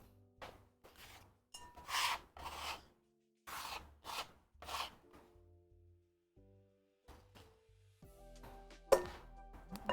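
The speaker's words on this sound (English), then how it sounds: "I'm gonna try and slide a bench scraper just right under there" A bench scraper pushed under baked food in a baking dish, giving a series of short, close scraping and rubbing strokes with brief pauses between them and a few light clinks near the end.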